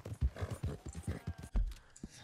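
Horse hooves clip-clop in Red Dead Redemption 2, a quick run of rhythmic, fairly close steps with a louder thud near the end, over a background of game ambience.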